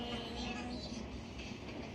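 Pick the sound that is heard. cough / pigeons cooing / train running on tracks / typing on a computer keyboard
train running on tracks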